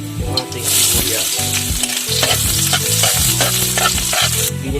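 Garlic and onions sautéing in a pan for a coconut milk dish cooked outdoors in a forest, with loud steady sizzling and frying broken up by frequent clinks and scrapes of a utensil stirring against the pan.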